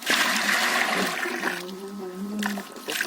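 Water is poured and splashes while a bucket is rinsed in a rural goat yard, a close rushing gush that eases off and then surges again near the end.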